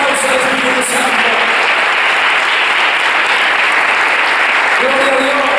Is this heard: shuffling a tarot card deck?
no